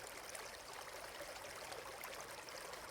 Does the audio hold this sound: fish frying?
no